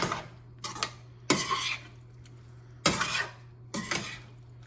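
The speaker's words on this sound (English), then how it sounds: "you're scraping the sides of it, getting it to the center, just pushing it over" A utensil scrapes egg mixture from the sides of a pan toward the center: four or five short scraping strokes on metal, close and distinct, with a steady low hum of a stove or fan beneath.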